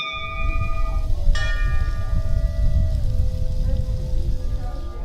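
A temple bell at a Bhairav temple in Uttarakhand rings with a sharp strike, its bright metallic overtones ringing out and slowly fading over a steady rumble of outdoor background noise.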